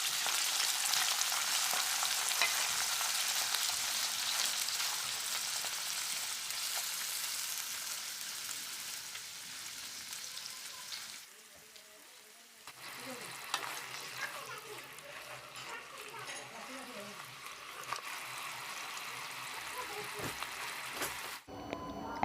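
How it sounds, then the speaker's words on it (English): Beef stir-frying in a pan for a quick steak dish, with a steady bright sizzle for most of the stretch, a brief lull, then renewed crackling frying with scraping stirs. "Now add the beef. Stir fry for 3 to 4 minutes."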